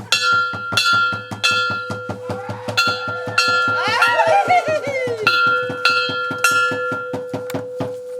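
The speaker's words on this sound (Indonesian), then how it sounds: "bersamaan dengan pembunyian lonceng gereja" Church bells ring at the dedication of a church building, a rapid series of clanging strikes with a ringing tone, while a brief rising whistle-like cry passes through the middle.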